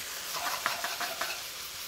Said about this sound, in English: Quite a lot of smoke here, give it a wok toss.